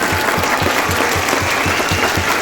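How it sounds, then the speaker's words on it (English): Close, loud applause for the seniors at a high school football end-of-season awards banquet, dense steady clapping with a strong rhythmic beat throughout. "let's give these seniors a round of applause"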